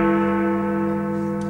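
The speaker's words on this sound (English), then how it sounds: "One large lump of metal, the clapper, hitting another large lump of metal, the bell." A large bell struck by its heavy metal clapper rings out loud and close, a rich sustained tone with many steady overtones slowly decaying.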